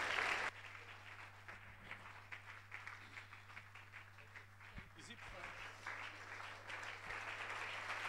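A church congregation applauds during a service, a soft continuous spatter of clapping that builds slightly toward the end, with a steady low hum underneath and voices mixed in.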